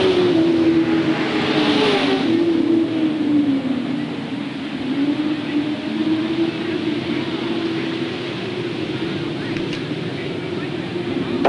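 Sportsman race cars battling for position in a 1993 feature at Hales Corners Speedway, a continuous loud engine drone that rises and sweeps as the cars pass, with constant crowd and track noise.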